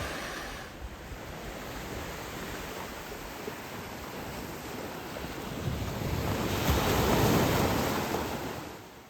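Ocean surf breaking on the beach at Pirates Bay, Tobago, a steady broadband wash with wind buffeting the microphone, swelling louder toward the end as a wave rolls in; no voices.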